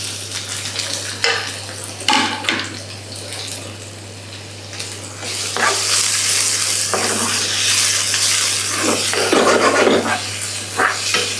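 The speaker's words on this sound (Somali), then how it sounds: "waxaa isku shiilay yaanyadii iyo basashii" Tomatoes and onions frying in sunflower oil in a pan, with a steady sizzle, repeated stirring scrapes and occasional clinks of a utensil against the pot, under a constant low hum.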